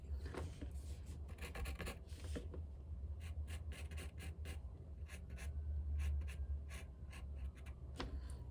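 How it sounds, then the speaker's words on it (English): A pencil scratches across paper in short, quiet strokes, a soft rhythmic rasp of close, repeated lines with brief pauses between them, heard alone. "I think I'll just use my pencil."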